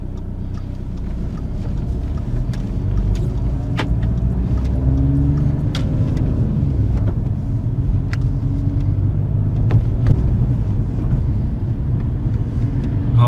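A car pulls away from a driving test centre, its engine a steady low rumble throughout with a few faint clicks on top, no talking.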